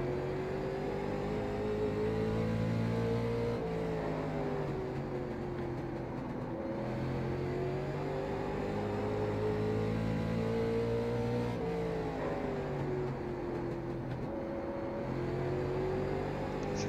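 A late model race car lapping South Boston in the iRacing game, steady loud engine drone rising and falling in pitch through corners, continuous with no talk.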